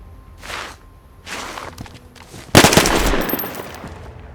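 Gunfire in the survival video game DayZ at an airfield: a single loud, sharp shot bursts out midway and rings off into a noisy tail, with fainter rustling, step-like bursts before it.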